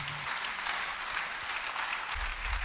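A church congregation applauds steadily, a dense wash of clapping that stays even for the whole stretch, with no voices over it.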